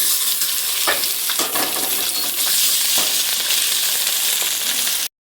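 Bottle gourd leaf paste hits a hot pan and sizzles loudly and steadily, with a few sharp scrapes and clinks of stirring, ending abruptly.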